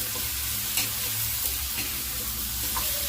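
Eggplant sautés in a pan for a dish of pinakbet vegetables, a close, continuous sizzle and hiss with small spatters and faint stirring scrapes, no talking.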